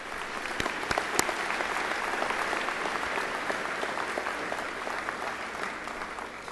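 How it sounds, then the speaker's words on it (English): Steady, dense applause from an audience at a 2014 commencement ceremony, sustained at an even level across the whole stretch with a few sharper claps standing out near the start. "Let's give her one more round of applause"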